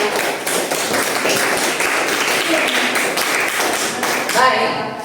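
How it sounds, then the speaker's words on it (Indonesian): Classroom audience claps together through a teacher's coaching session, a steady, fairly loud burst of hand claps that fills the room, with a voice breaking in near the end. "Tepuk tangan untuk"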